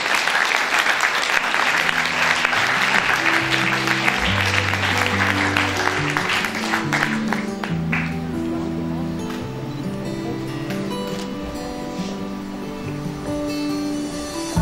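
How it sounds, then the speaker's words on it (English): Loud, sustained applause from an audience at a literary fest marking the release of the e-magazine Abhivyakti, steady throughout with a band playing sustained chords underneath. "A huge round of applause, my dear audience."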